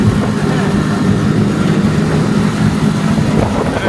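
Motorcycle ride along a village road near Banaz, Uşak, Turkey, with a steady engine rumble and wind noise throughout, loud and close, while people talk over it.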